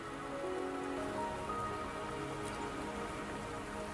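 Steady rain pours down on a hard surface in Wuthering Waves, a constant dense hiss of droplets with no voices.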